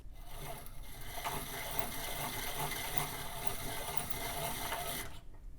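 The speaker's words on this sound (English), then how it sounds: "Back to the grinder." A piston ring filer grinds the end gap of a piston ring being file-fitted for a boosted engine, a steady, close rasping drone that runs unbroken for several seconds before stopping.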